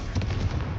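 A Confringo blasting spell cast in Hogwarts Legacy gives a short, heavy explosive boom lasting under a second, close and forceful with no talk over it.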